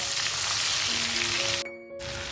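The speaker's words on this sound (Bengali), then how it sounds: "প্রথমে আমি পেঁয়াজটাকে একটু লাল করে ভেজে নিলাম" Onion frying in a pan until reddish for a thin egg curry, a dense close sizzle that dips into a brief near-silence before resuming, with no talking.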